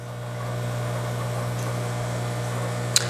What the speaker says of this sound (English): that is the sound of all my filters